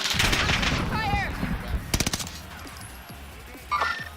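Video game gunfire bursts out in a rapid volley of shots around the middle, with scattered shots and game effects before and after, loud and close over background noise.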